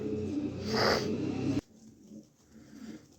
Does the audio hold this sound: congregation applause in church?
no